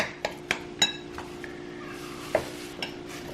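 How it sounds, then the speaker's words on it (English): A knife cuts through avocado and taps against a dish while scooping for a seven-layer dip, a handful of sharp, light clinks and scrapes spread unevenly over a quiet background. "I'm just like cutting it up before I scoop it in there"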